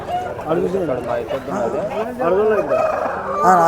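Country chickens crow and cluck at a weekly village poultry market, several harsh rising calls overlapping amid crowd chatter and nearby voices.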